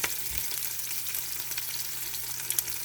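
Onion fries in a pan as the base for pork sinigang, making a quiet, steady hissing sizzle with a brief soft knock near the start and a few faint crackles.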